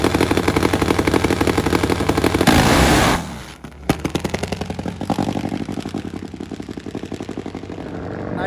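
A carbureted, high-gear-only nitromethane drag racing engine blasts loudly on the track with a harsh rapid crackle, drops out briefly with a sharp pop, then resumes a pulsing staccato rumble.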